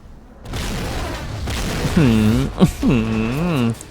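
A bomb set off by a phone call in the video game GTA 5 gives a sudden loud boom that rolls into a sustained rumble, while warbling tones sound over the tail.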